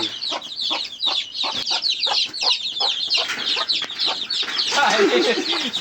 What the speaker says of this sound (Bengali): দেশি মুরগি দিয়া দশ পনেরোটা মুরগি আমি তোলাইছি